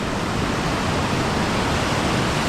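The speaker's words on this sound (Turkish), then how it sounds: "Ama ileriye gittiğiniz zaman dalgalar artıyor." Ocean waves on a beach in Costa Rica make a steady, loud, unbroken roar of surf with no voices.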